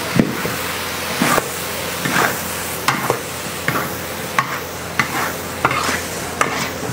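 Beef fat tossed with turmeric gets stirred in a cooking pot for a large batch, a ladle scraping in regular strokes about once a second over a soft background sizzle, close and fairly loud.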